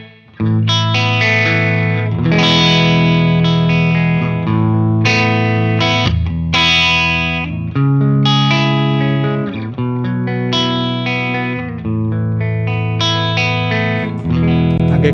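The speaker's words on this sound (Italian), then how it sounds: "partendo da un riverbero room." Electric guitar played through a compact micro pedal set to a room reverb, loud sustained chords and arpeggiated notes ringing out with a short roomy tail, continuous for about fifteen seconds with no voices.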